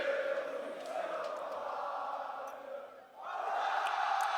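A French crowd at the 2015 League of Legends World Championship roars and cheers in a large arena, a sustained distant swell that briefly dips before rising again, with no clear talk.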